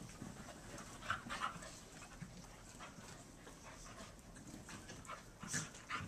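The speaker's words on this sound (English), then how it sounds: "Look, all the dogs around Sparky." Dogs pant quietly and rapidly nearby, with a few soft whimpers and small yips mixed in against a low background.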